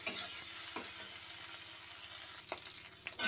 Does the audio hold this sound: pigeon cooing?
no